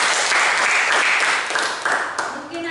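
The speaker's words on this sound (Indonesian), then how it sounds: "Oke, tepuk tangan." A short burst of clapping from a group, fairly loud and continuous, tapering off near the end.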